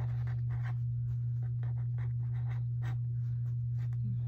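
A pencil scratches out a math calculation on scrap paper in short, close strokes and pauses over a constant low electrical hum.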